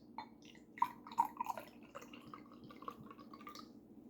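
Unopened 1970s Pepsi pours from an old bottle in faint, uneven trickles and small splashes, with scattered drips over a quiet room background.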